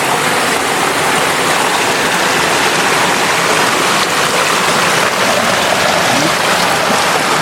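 River water rushing over rocks in a clear, scenic stream, a dense continuous broadband roar that stays loud and even from start to finish with no pauses.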